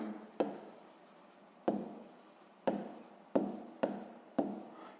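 Pen writing a digit by hand on paper during a sixth-grade maths exercise: five separate scratchy strokes, each starting sharply and trailing off, close and quiet with no talk.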